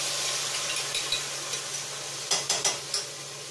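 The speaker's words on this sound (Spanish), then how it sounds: "Mete todo el ajo y le incorporamos la salsita" Garlic and onion sizzle steadily in a pan with a soft, even hiss as sauce is stirred in. A few sharp utensil clicks and scrapes come near the end.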